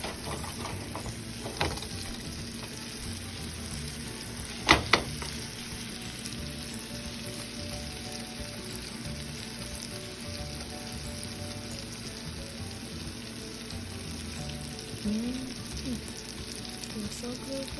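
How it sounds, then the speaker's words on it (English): Salmon fillet frying skin side down in browned butter, a steady low sizzle running throughout with a couple of sharp clinks and pan knocks, faint background voice at times. "Now our butter looks about done. We are going to adding our salmon. 3 minutes on the skin side."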